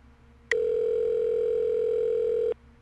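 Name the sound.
cell phone dial tone in the video game Saints Row 2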